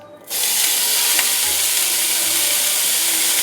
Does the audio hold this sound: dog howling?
no